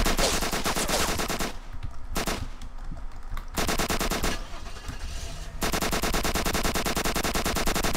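Continuous rapid automatic gunfire in the zombie survival game Apocalypse Rising rattles on loud and close, breaking off briefly twice before resuming at full intensity.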